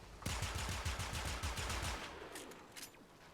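A heavy gunner fires a machine gun in the video game Warframe, a quick run of about a dozen sharp, evenly spaced shots that stops abruptly, followed by a few scattered fainter impacts.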